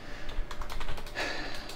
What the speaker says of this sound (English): what you have to do is just type in